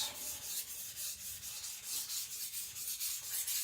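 A Sakon Ryuga gyuto knife being sharpened on a Naniwa Professional whetstone, a steady rhythmic scraping of steel on stone in repeated strokes, close and fairly quiet with no talking.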